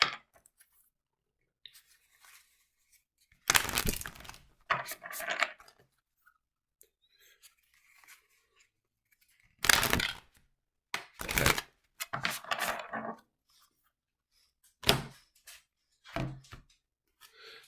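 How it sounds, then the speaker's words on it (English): Oracle cards are shuffled by hand in brief, crisp bursts of riffling and sliding, a few clusters separated by quiet pauses, close and soft with no talking. "I'm just shuffling for the Oracle card."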